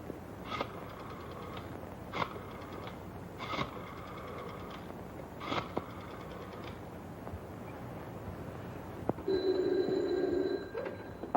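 An old-fashioned telephone bell rings in repeated short bursts at a moderate distance in an office, followed by a steadier electronic buzz near the end, with no talking over it.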